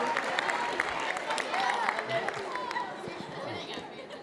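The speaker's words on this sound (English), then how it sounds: "Everybody give them a round of applause" A crowd claps and cheers in a dense wash of applause, with chatter mixed in, gradually fading slightly.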